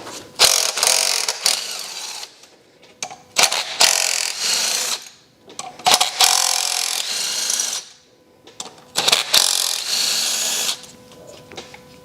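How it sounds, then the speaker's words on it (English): Power tool loosening E10 bolt injector clamps on a BMW diesel engine, close, loud whirring bursts of a few seconds each, broken by short pauses and clicks as the tool stops and restarts. "I'm hoping when I release these E10 bolt injector clamps that these injectors will be fairly loose"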